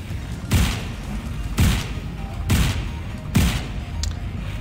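Guns of the Dragonfly ship fire in a space-flight video game: four sharp, booming bursts spaced about a second apart, each ending in a short low thump, over a steady engine hum with no talking.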